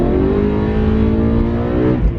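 A BMW M3 accelerating hard on a cold 47-degree day with worn tires slipping, its loud, close engine drone rising steadily and continuously, with a brief dip near the end.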